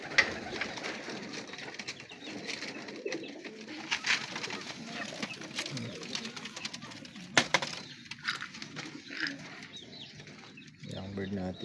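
Pigeons coo softly and repeatedly in a loft, with occasional wing flaps and rustling nearby, while someone talks quietly over the birds.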